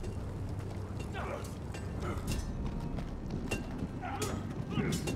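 Horse hooves clip-clop at a walk in a Game of Thrones video game, set at the Wall, with faint creaks and other game sounds around them. People talk over the steady, moderately quiet hoofbeats.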